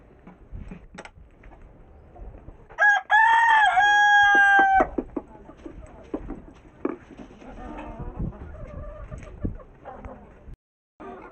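Aseel chickens and their chicks in an outdoor yard, with scattered soft clucks and a loud, drawn-out crow-like call around the middle, close by, amid light background noise.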